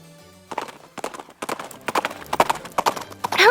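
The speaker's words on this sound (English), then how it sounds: "this royal horse Maximus" A toy royal horse is played with at a Barbie Rapunzel tower dollhouse, its hooves clip-clopping in a steady rhythm of close, crisp taps that grow busier, ending with a short whinny.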